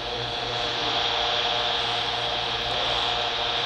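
Steady hiss of a radio signal transmitted by a NanoVNA-F near 436.650 MHz, a constant broadband static that holds at even loudness for several seconds, close and alone with no talking.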